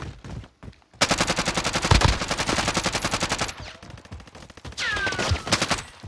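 Rapid bursts of automatic gunfire in Call of Duty: Modern Warfare, a dense rattling volley that runs steadily, breaks off, then returns in a shorter burst with a ringing tail, loud and close with no talking.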